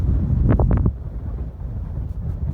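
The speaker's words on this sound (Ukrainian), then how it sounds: "Вітер такий конкретний." Strong wind buffets the microphone in a low, roaring rumble, with a brief louder gusting burst early on, and no voices, during rainy pike fishing outdoors.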